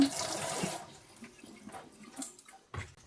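Water runs from a kitchen tap as an apple is rinsed, a broad splashing wash that is strongest at first, then settles into softer trickles and small splashes.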